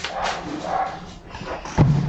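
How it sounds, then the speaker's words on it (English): A dog barks indoors during a live board game session, a short close yip near the end after a stretch of muffled room noise. "Dog, shut up."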